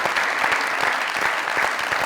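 A studio audience at a Pakistani comedy talk show breaks into steady, dense applause, many hands clapping together loudly and continuously with no break.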